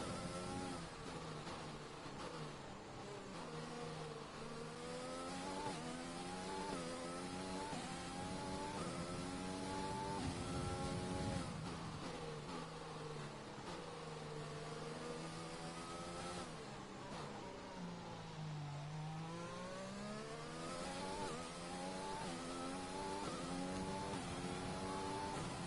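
F1 car engine from the F1 2020 video game on a flying lap around a wet Paul Ricard circuit, revving steadily and rising and falling in pitch through gear changes, loud and continuous with no talk.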